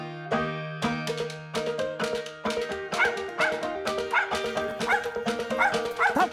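A hunting dog barks at a squirrel treed in woods, a fast run of loud, close, yelping barks and whines with no pause between them.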